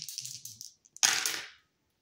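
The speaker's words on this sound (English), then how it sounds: "rolling the dice to see what I need to shuffle the deck to" Dice rolled for a tarot reading: a few light clicks as they tumble in the hand, then a sharp clatter as they land and skitter to a stop, close and fairly quiet.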